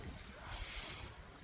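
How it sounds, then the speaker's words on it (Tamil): Wind gusting steadily across the open view at Aliyar Dam near Pollachi, a broad continuous rushing roar buffeting the microphone, loud and close with no pauses. "அதை விட அழகாக காற்றடிக்குது"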